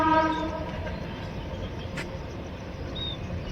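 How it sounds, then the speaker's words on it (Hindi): A long freight train rumbles across the Balganga railway bridge at a distance, a steady low rolling roar with a brief whistle-like tone near the start. "नीचे बालगंगा रेलवे पुल से रेल ट्रेन जा रही है"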